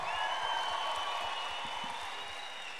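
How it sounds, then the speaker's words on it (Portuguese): A concert crowd at a summer festival show roars and applauds in a dense, steady wash, with tonal hum and music-like tones lingering over the cheering. "Uma salva de palmas para vocês"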